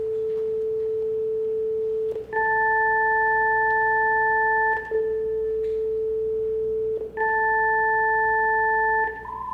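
Steady pure test tones sit in a narrow band, a low tone joined by two higher ones, sounding in three long sustained blocks separated by brief dips, loud and alone with no voices.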